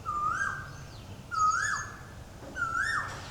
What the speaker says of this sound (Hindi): कोयल इतनी देर से बोल रही, पूरे जोर लगा रही बोलने में।